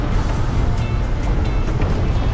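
A red state transport bus pulling away on a trip from Mumbai toward a Konkan village, with a continuous heavy rumble of engine and road noise, close and loud, and light rattling over the top.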